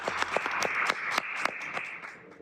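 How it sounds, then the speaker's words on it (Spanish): A handful of people clap in a Mexican television news studio, sharp separate hand claps in an uneven rhythm that thin out and grow quieter after a couple of seconds. "Un aplauso a todos y a todas"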